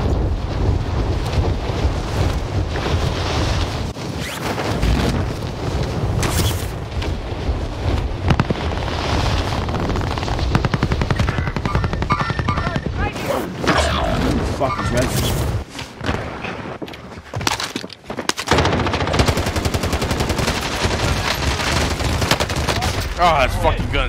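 Machine gun bursts rattle loudly and almost continuously in a Call of Duty Warzone match, layered with wind-like rumble, booms and game voices across the whole stretch.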